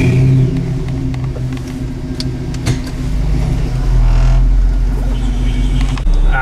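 A 2014 Jeep drives and accelerates, its engine rumble swelling louder and deeper partway through, with steady road noise and no talk.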